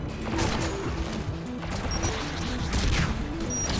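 Turret gunfire in the video game Mass Effect 3, with dense continuous bursts of rapid shots and crashing impacts, loud and sustained over a rumbling low backdrop, no talking.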